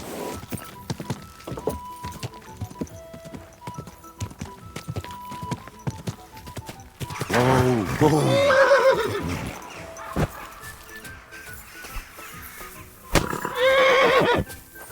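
A horse in the medieval game Kingdom Come Deliverance 2 whinnies loudly at close range, followed by a second neigh, with clip-clopping hooves and footsteps plodding beneath.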